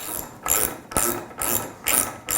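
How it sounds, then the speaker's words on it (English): A ratchet tightens windshield bolts on a Spyder, giving quick bursts of close, crisp clicking, about five rapid back-and-forth strokes with short pauses between them. "I use a ratchet. Sometimes you can use just a T-wrench if you'd like. Ratchet just makes it a little quicker."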